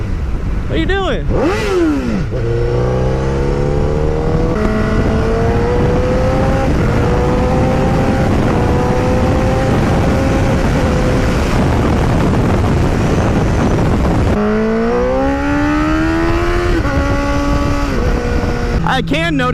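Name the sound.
motorcycle with aftermarket exhaust accelerating through the revs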